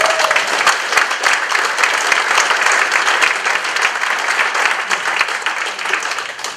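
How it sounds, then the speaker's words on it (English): An audience after a panel of three speakers breaks into loud, dense applause, a steady crackle of many hands clapping close by for several seconds before tapering slightly. "let's give them a huge round of applause"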